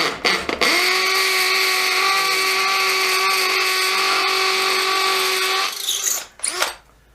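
A cordless drill, Milwaukee M18BPD or Dewalt DCD776, spins up and runs at a steady high-pitched whine for about five seconds, close and loud, then winds down and stops.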